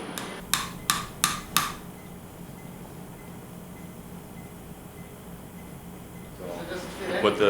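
A surgeon hammering a nail into an elderly patient's bone during surgery: four sharp metallic strikes in quick, even succession, followed by quieter room sound and a rise of noise near the end.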